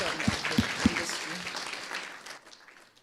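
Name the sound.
audience applause at stakeholder forum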